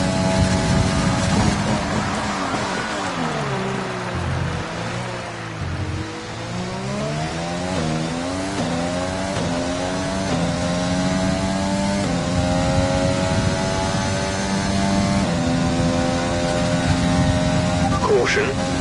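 Race car engine from a racing video game in a European league event in Italy, a steady droning roar whose pitch sweeps up and down through gear changes, continuous and loud under occasional talk.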